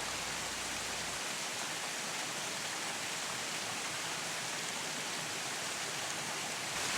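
Steady rain pours in a forest canyon where hummingbirds bathe, a dense continuous hiss with no breaks, fairly loud and even throughout, no voices.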